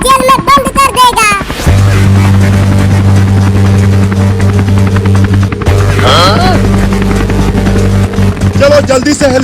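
A loud, steady helicopter engine drone with a low rotor hum runs through most of the clip, with animated voices talking over it, from a cartoon comedy sketch.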